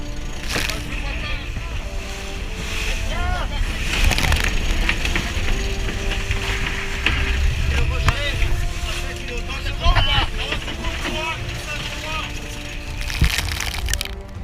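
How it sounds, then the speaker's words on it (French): Huge waves crash against a racing sailboat at sea during the Fastnet Race, a loud, continuous wash of water and wind with repeated heavy surges and creaking from the boat. "Il y a d'énormes vagues, elles montent tellement haut que le phare est caché par les vagues"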